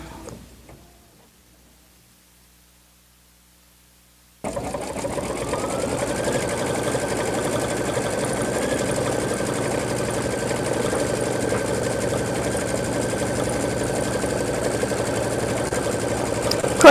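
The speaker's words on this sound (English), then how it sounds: "and it's going to sew that straight line again." A Brother Luminaire embroidery machine stitches a straight line, starting after a few seconds of near silence with a steady, close mechanical whir and rapid needle chatter that holds evenly to the end.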